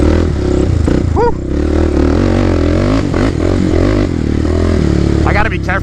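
Loud, close roar of a Predator 560 big-bore engine vehicle being ridden, a steady droning engine note with rattling clatter and a couple of brief rising whines near the start and end.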